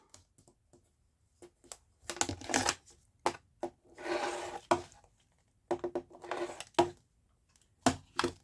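Scissors trimming away fabric or stabilizer around machine embroidery, making quiet clusters of crisp snips and rustles in short bursts with pauses, with no talk.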